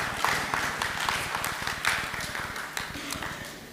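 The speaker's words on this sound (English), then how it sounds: "I'm not sure if the moderator deserves an equal round of applause for having dragged my time." A conference audience applauds, with a dense patter of many hands clapping at moderate distance that fades slightly toward the end.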